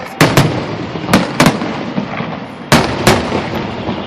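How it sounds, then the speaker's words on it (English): Fireworks bursting over a ballpark after an Oakland A's baseball game against the Blue Jays, sharp booming explosions arriving in irregular clusters of loud nearby bangs with crackling rumble between them. "Ooh, the fireworks."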